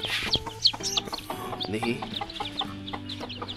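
A native black hen clucks in short repeated bursts near a nest of newly hatched chicks, with a person speaking briefly over the sounds.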